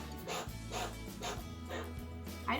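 Chinchilla alarm barking on a windy day: a series of short, squeaky yipping barks repeating about every half second, faint and close, with no voices over them.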